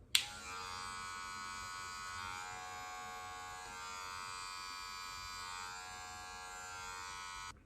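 Electric hair clippers buzz steadily and close up during a self-cut high taper, using most of the blade, with a sharp start and then a constant whine for several seconds.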